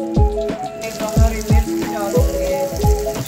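Shami kabab frying in a hot pan gives a steady sizzle, with repeated low thuds and clatter from handling in a home kitchen, close and fairly loud.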